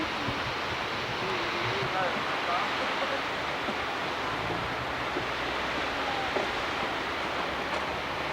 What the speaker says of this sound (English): Bird Woman Falls. 492 feet high.